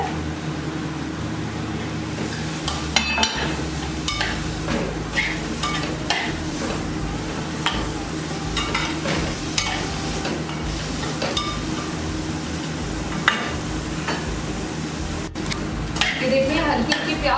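Onions fry in a pan for a chicken pizza, a steady sizzle with occasional clinks and stirring scrapes, and a person talks over the cooking at times.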